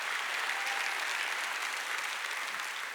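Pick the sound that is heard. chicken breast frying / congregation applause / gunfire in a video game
congregation applause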